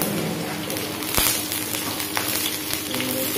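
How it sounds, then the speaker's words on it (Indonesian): Shallots, garlic and dried anchovies sautéing in a pan, a continuous close sizzle and crackle with a sharp utensil knock near the start, no talking. "Bawang merah sama bawang putih, kan? Tumis. Dan masukkan ikan bilis."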